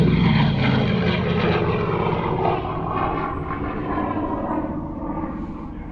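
A Pratt & Whitney R4360 Wasp Major, a double-bank radial aircraft engine with a mechanical supercharger and gear reduction, runs with a loud, steady, dense roar that fades slightly toward the end, with no talking.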